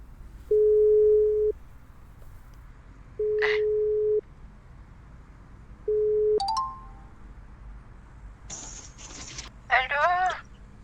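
A telephone ringback tone sounds while a call is placed, three evenly spaced long steady beeps with pauses between them, followed by a short rising tone and brief scratchy line noise.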